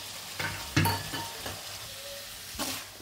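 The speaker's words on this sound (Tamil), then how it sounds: "நல்லா மிக்ஸ் பண்ணுங்கள். இது நல்லா வதங்கட்டும்." Onions, tomatoes and spices for a prawn gravy sizzle and fry in a pan, with a steady close hiss and a few louder bursts as the mixture is stirred. No one speaks.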